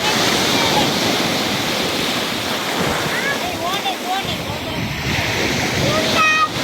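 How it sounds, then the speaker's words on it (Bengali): Sea waves wash onto the beach at Saint Martin's Island during high tide, with a steady surf roar and wind buffeting the microphone, while faint voices and children's calls drift over the water. "কি চমৎকার ঢেউ এই মুহূর্তে, জোয়ারের সময়, কিছুক্ষণের মধ্যেই ভাটা পড়ে যাবে।"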